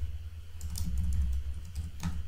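Typing on a computer keyboard in short, irregular bursts of light key clicks over a low, steady background hum, close and fairly quiet.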